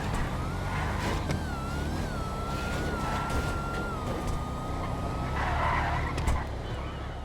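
A drag race car in GTA 5 spins its tires on a no-prep drag strip, a continuous loud engine roar and tire screech with a wavering high whine, steady throughout with no talk.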